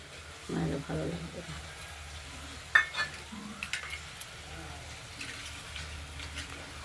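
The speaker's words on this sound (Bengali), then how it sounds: "জল দিয়ে যেহেতু সিদ্ধ করেছি, একটু নাড়াচাড়া করে এটাকে নরম করে নিতে হয়" Boiled mustard-flower greens, still sitting in some water, are stirred in a pot. There are soft scraping and sloshing sounds, a sharp clink of the utensil near the middle, and a faint sizzle. A voice is heard briefly near the start.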